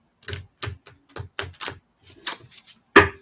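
A deck of tarot cards is shuffled by hand, a series of short crisp riffles and taps in an uneven rhythm, close and fairly loud, ending on a sharper snap, with no talk.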